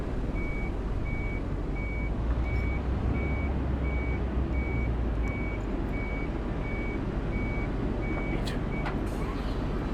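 A long-wheelbase truck manoeuvres with its reversing alarm beeping in a steady, evenly spaced series over a loud, constant engine rumble, with a short hiss of air brakes near the end.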